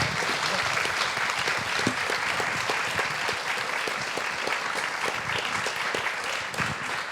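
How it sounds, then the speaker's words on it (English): Sustained applause from an audience at a comics event, honouring the artists Posy Simmonds, Pénélope Bagieu, Charlie Adlard and Emmanuel Guibert; a dense, steady wash of many hands clapping at even loudness for about seven seconds. "So please, a round of applause for Posey Simmons and Penelope Badieu and Charlie Adlard and Emmanuel Guibert"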